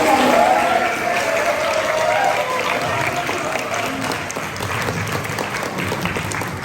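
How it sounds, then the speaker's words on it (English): An audience gives a round of applause after a performance at a medical college's World Breastfeeding Week event, a loud continuous clapping crowd with voices mixed in. "Round of applause for our friends for this amazing performance."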